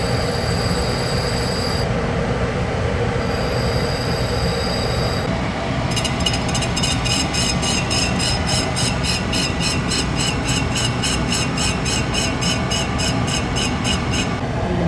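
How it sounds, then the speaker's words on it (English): An aluminum oxide grinding wheel, clogged with aluminum, being dressed: a steady high-pitched whine over constant motor hum, joined midway by rapid, evenly spaced ticking that continues to the end. "I think I'm going to need to dress my aluminum oxide wheel"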